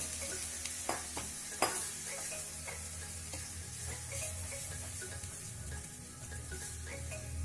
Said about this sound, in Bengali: এবার আমি সেদ্ধ করে রাখা তড়কার ডালটা দিয়ে দিলাম